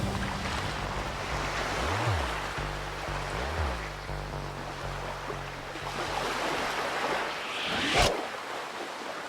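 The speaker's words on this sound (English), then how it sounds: "can estimate that the height of the waves to be as high as 10 feet" Storm waves churn on the Sea of Galilee in wind and rain, a continuous rough wash of water and gusts with a low engine drone passing twice and a sharp splash near the end.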